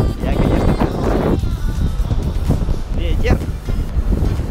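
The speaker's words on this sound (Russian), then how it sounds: "Да, определенно ветер." Gusty wind buffets the microphone outdoors in a steady, loud roar, with people talking over it throughout.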